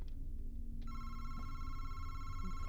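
A telephone rings inside a horror video game, a steady electronic tone starting about a second in and holding to the end over a low ambient hum.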